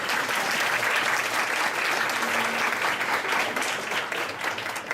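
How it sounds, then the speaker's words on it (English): A lecture audience applauds a visiting professor after a talk on grammar teaching, a dense, sustained round of clapping that fills the whole stretch at steady loudness. "Let's give Professor Rod Ellis a big round of applause one more time."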